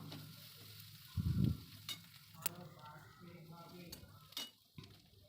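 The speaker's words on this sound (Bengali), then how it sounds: "ওটাও দিয়ে কয়েক সেকেন্ড মতো নাড়াচাড়া করব, একটু ভাজা ভাজা মতো করব" Chopped garlic and green chili frying in a pan while being stirred, a faint close sizzle with scraping spatula strokes and scattered clinks of metal against the pan, and a brief low thump partway through.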